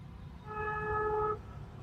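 A single car horn honks once for about a second in city traffic, a clear steady toot heard from inside a car at low speed, over a quiet low rumble of road noise.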